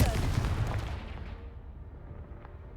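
In Hogwarts Legacy, the Confringo spell blows apart a pile blocking a stairwell, a heavy booming blast that rumbles on and fades over a couple of seconds.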